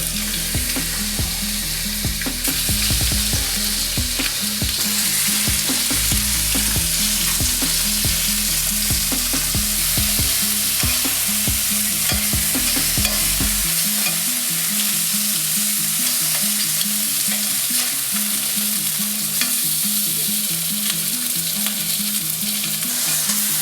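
Lobster pieces frying in a hot pan with olive oil, a steady loud sizzle running throughout with stirring and scraping noises, rhythmic low clatter in the first half before settling into continuous frying alone.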